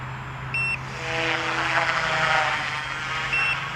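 An Eachine E190S drone sounds short, high electronic low-battery warning beeps, one near the start and one near the end, over its steady airborne whine and outdoor background noise.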